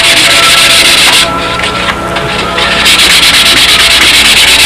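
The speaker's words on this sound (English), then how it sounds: "Now that that coat is dry, we can give this a third sanding" Sandpaper rubs back and forth over a doped balsa wood model aircraft between coats, a loud, close, steady scratchy hiss with a brief lighter stretch midway.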